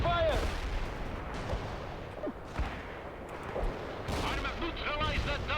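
Battlefield gunfire and artillery thuds in the Soviet Assault campaign of the video game World in Conflict, repeated bursts and booms over a noisy backdrop, with in-game voices heard between shots.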